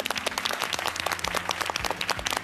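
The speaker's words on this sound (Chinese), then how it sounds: "我们再一次把掌声送给三位医生" A television health-program studio audience claps in a lively round of applause, dense individual claps heard close and continuous throughout.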